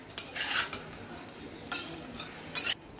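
A spoon scrapes and stirs prawn masala with lemon juice in a pan over medium heat, producing a few separate bursts of metallic scraping between quiet pauses, with no talking.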